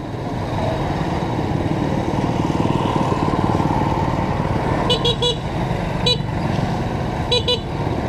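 A Skygo motorcycle engine runs loud and close with a steady, throbbing idle, and several short horn toots cut in over it toward the end.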